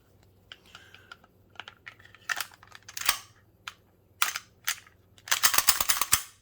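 A military rifle's action is cycled and its trigger clicked during a function check after reassembly, giving a close series of sharp metallic clacks and clicks spread irregularly, with a dense flurry of mechanical rattling near the end.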